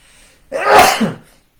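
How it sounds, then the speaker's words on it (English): A single loud, close sneeze with a short sharp burst, followed by quiet. "I'm about to sneeze."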